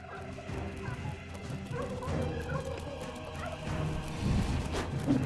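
Poultry gobbling and clucking in a chicken coop inside the dungeon-building video game Dungeons 3, a continuous busy layer of bird calls mixed with game ambience and low rumbling effects.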